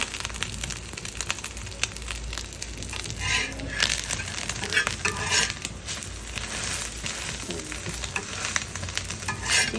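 Bitter gourd frying in mustard oil in a pan gives a constant close sizzle, with intermittent scraping and stirring clinks from a utensil over it.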